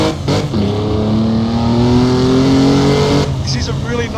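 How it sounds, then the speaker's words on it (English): A racing car engine in a video game, played on a motion simulator, holds a high, rising whine as it accelerates, loud and steady, with a voice speaking briefly over it. "This is a really nice sounding car"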